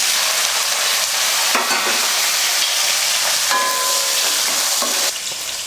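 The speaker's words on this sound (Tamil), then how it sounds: "சின்ன வெங்காயம் வந்து பொடியாக இருக்கிறதுனால முழுசாகவே சேர்த்துக்கிறேன்." Whole shallots fry in hot oil with fenugreek and cumin, giving a loud steady sizzle close by, with occasional scrapes and taps from a stirring spoon and no voices.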